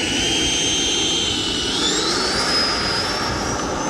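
Freewing F-22 90mm RC jet with twin electric ducted fans spooling up for takeoff, a loud, steady high-pitched whine that climbs in pitch as it builds, close by, with no talking.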